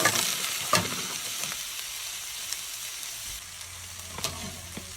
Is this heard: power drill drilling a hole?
no